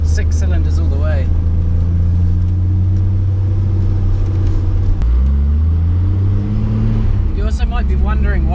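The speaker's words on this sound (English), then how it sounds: "I've forgotten how good that rumble of the RB is. 6 cylinders all the way." Deep, loud rumble of a Nissan 200SX S13 with an RB25DET six-cylinder engine, idling then rising and falling in pitch as revs shift, with talk over it.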